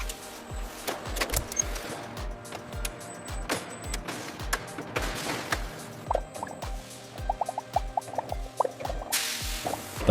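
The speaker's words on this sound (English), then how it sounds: "The hot jam is automatically dispensed into each jar with remarkable precision." Hot apricot jam dispensed by machine into sterilized glass jars on a factory line: a steady rhythm of repeated drips, plops and clicks of filling, with mechanical clatter and hum throughout and a brief hiss near the end.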